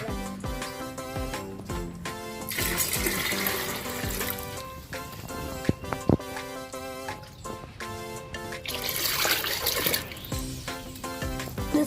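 Water runs steadily from a tap while fish-tank water is being prepared, a continuous splashing rush with some swelling louder stretches, under a loud melodic music bed with no talk.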